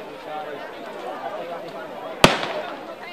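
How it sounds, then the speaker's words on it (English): A single sharp crack rings out from burning food-aid trucks loaded with ammunition. The loud bang stands out over background crowd chatter. "I'll let you all listen to the gunfire, the ammo that was going off"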